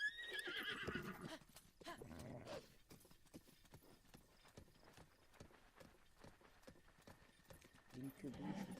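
Horse hooves clip-clop in a steady rhythm in Zelda Breath of the Wild, with whinnies at the start and end, heard under faint game sounds and quiet talk.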